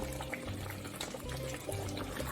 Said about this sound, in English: And as you can see, it's bubbling ferociously.